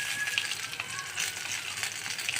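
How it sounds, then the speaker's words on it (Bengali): Catla fish pieces fry in hot oil, a steady close sizzle with soft crackling and spitting throughout, no voices. "এই যে আমার মাছগুলো ভাজতেছি আমি"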